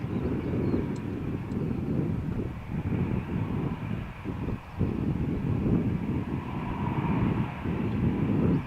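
A Jet2 airliner on the Malaga to Glasgow route roars at Malaga Airport on a stormy morning, a steady broadband engine rumble mixed with wind noise, fairly distant and continuous.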